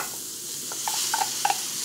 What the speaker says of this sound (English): I'm gonna add the beef in